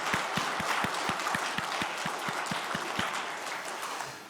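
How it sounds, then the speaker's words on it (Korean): A church congregation applauds together during a Sunday service, a dense wash of clapping that holds steady for about four seconds, with a regular low thump repeating underneath, before it trails off. "그 하나님께 우리 다 함께 영광의 박수 한번 올려드리겠습니다."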